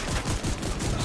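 Dense automatic gunfire from the video game The Division 2 rattles in rapid overlapping bursts, loud and continuous over one brief moment of combat, with no talking.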